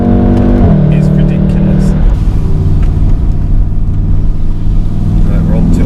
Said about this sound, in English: we're coming out of this corner now in second gear. Foot hard now. The speed in which it changes gear